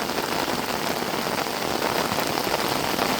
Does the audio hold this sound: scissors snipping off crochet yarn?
no